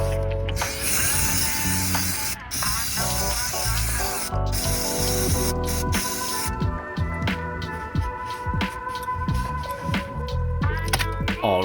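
Steady hissing spray runs almost continuously, with clicks and mechanical rattles mixed in, close and fairly loud.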